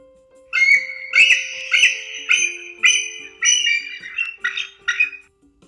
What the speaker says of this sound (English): Bald eagle. I screech, and this is what I sound like.